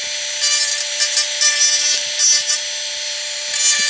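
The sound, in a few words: Dremel rotary tool with round bit grinding a denture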